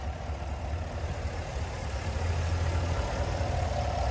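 Idling 6.2-liter naturally aspirated V8 in a 2023 Chevy Tahoe RST with a performance air intake, a steady low rumble heard up close with the hood open and no voices.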